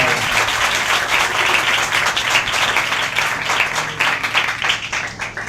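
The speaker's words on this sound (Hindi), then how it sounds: "आए अपने लिए तालियां बजाएं" A church congregation claps for itself during worship, a loud, dense stretch of applause with individual claps standing out, slightly uneven and fading a bit toward the end.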